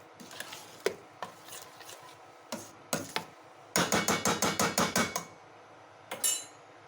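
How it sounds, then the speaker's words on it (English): A spoon stirs a pot of homemade apple butter, giving scattered close clunks and scrapes, then a quick, even run of about eight knocking strokes, and one last scrape. The sounds are fairly quiet against a quiet room. "I'll get this all stirred up."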